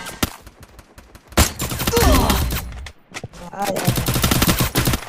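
Bursts of rapid video game gunfire in a rank-push match, loud and near with repeated automatic volleys and single shots, while players chatter over them.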